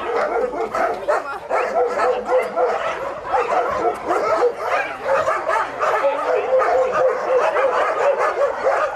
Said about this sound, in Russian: На трассе Ачинск-Красноярск сотрудники приюта нашли еще 3 собак.